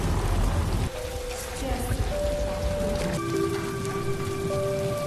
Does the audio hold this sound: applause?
no